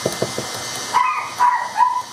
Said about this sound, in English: Excuse my dog. I don't know why he's barking.